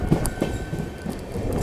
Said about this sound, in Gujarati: તમને થોડોક સાઉન્ડ સંભળાવું ટ્રેક સાઉન્ડ.